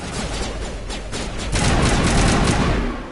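Dense, continuous gunfire from a Mass Effect battle, overlapping rapid shots blending into a loud, unbroken roar that intensifies midway, with no voices over it.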